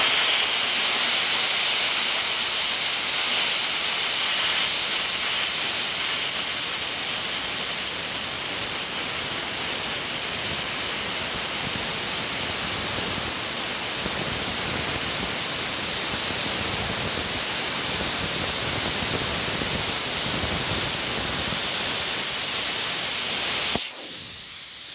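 A DecaPower PMCT-205 plasma cutter cutting metal with the air turned up, a loud, steady roaring hiss that runs for many seconds before cutting off abruptly near the end.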